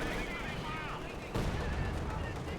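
Tank cannon fire and machine gun bursts from Soviet 85mm guns in the Company of Heroes 2 video game, with rapid gunfire and a sharp blast partway through, heard at a moderate level.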